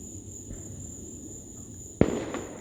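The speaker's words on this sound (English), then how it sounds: "Just listen to the sound of those fireworks." Fireworks explode at night on the eve of the Fourth of July. One sharp, loud boom rises out of a steady chirp of insects and crickets, followed by a brief crackling tail.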